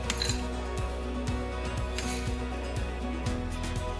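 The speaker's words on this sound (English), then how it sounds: "We will top our glass with ice." Ice cubes dropped into a cocktail glass for a tequila drink, a run of bright clinks and knocks at uneven intervals, close and crisp over a faint background hum.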